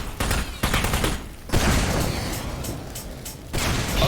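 Rapid bursts of automatic gunfire in the Aperture Desk Job video game, loud sustained volleys broken by short pauses, with mechanical clatter mixed in.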